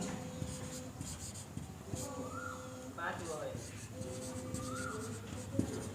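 Chalk or marker scratches out short strokes on a board while a teacher talks through a right-triangle geometry problem, with faint, intermittent squeaks and taps under the speech.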